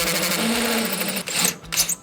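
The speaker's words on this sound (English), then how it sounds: "It's gonna be a little bit of drilling." A hole saw grinds through the metal body of a grill cooker while a rotisserie kit is mounted, a steady whining drill buzz running close and loud for about two seconds.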